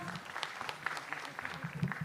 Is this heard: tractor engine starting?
no